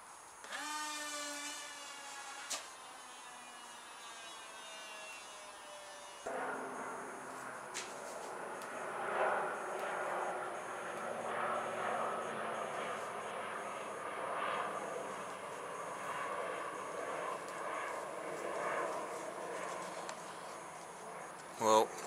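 Electric motors spinning propellers on a homemade polystyrene pizza-tray jet glider, a steady buzzing whine that starts after a short lead-in and holds fairly loud throughout, with a voice talking over it.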